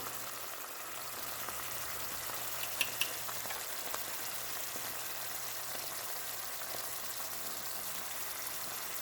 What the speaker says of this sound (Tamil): மஞ்சள் வாசனை போக மட்டும் வதக்கி விடுவோம்